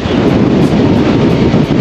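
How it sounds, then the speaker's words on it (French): Strong wind gusting around 70 km/h in Ireland roars steadily into the microphone, a loud continuous rush with gusting buffets and no voices. "On est sur des rafales de vent d'environ 70 km/h."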